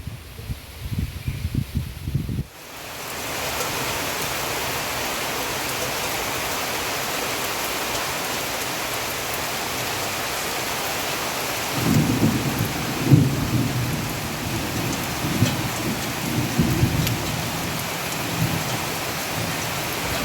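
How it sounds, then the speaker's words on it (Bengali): A heavy thunderstorm with pouring rain and rumbling thunder: after a brief lull the downpour roars steadily, and deep rolling thunder swells near the end, loud and close without any talking. "প্রচণ্ড হাওয়া ছেড়েছে, মনে হয় ঝড় বৃষ্টি হবে"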